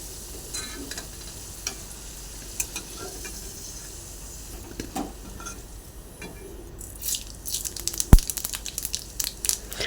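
Whole spices such as panch phoron, bay leaves, cloves, cardamom and cinnamon sizzle faintly in hot oil. Scattered clicks and crackles grow louder and busier toward the end.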